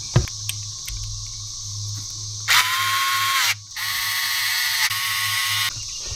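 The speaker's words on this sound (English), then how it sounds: "this screw is going to be screwing into the aluminum on the back side here" A small electric driver whirs in two sustained high-pitched bursts, driving a screw into an aluminum Redcat Ascent panhard mount, with a brief pause between runs over a low background hum.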